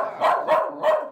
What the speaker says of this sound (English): A nice dog. An excited dog.